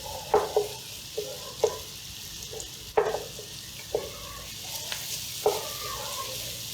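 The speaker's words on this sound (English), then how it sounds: "We will fry it only about 30 seconds." Two large garlic cloves fry in oil in a pan with a steady soft sizzle, broken by several sharp scrapes and knocks of a utensil stirring at irregular intervals, close by.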